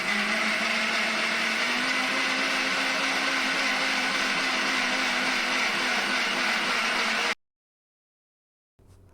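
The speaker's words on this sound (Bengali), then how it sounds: "এখন সমস্ত উপকরণ একটা মিক্সির মধ্যে নিয়ে পেস্ট বানিয়ে নেব।" An electric mixer grinder whirs loudly and steadily while blending sabudana pakora ingredients with water into a paste, running continuously for about seven seconds before cutting off abruptly into silence.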